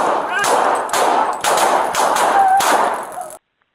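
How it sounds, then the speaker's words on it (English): Gunshots during a police confrontation, a string of loud, sharp blasts in quick succession over about three seconds, then abrupt silence. "Shots fired."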